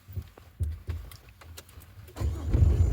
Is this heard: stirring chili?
no